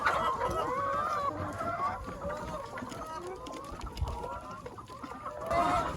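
A large flock of chickens clucking around a mobile coop, a dense continuous chorus of overlapping clucks and squawks, close and steady throughout, with a voice speaking over it.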